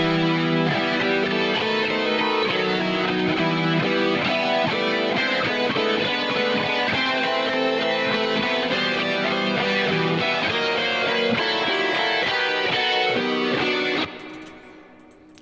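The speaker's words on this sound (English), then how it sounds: "So with the multi-voicer, that sounds like this." A dense synth part played through Logic's multi-voicer, a thick layered chorus of chords with a steady pulsing texture, loud and continuous before cutting off abruptly.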